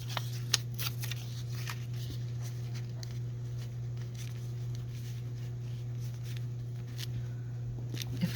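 Paper being torn by hand for a journal card, a run of short crisp rips and rustles close by over a steady low electrical hum, with no talking.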